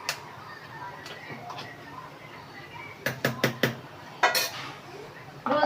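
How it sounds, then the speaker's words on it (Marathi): A spoon mixing ingredients together in a dish, heard as a few scattered light clinks followed by a quick run of four sharp metallic taps and a final scrape, close by, with faint voices in the background. "चमच्यानं पहिलं एक मटेरियल पूर्ण एकत्र करून घ्यायचं"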